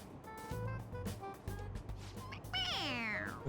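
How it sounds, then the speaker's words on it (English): A stuffed toy cat in the video game Persona 5 Royal meows when pressed on the head, a short mewing cry near the end, preceded by faint game sounds and brief tonal bursts. "It meows when you press on its head."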